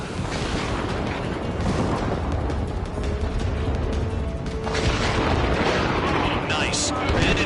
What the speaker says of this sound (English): Spare 15, launching missile.